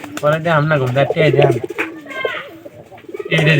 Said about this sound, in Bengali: এটা হলো একটা পায়রা কবুতর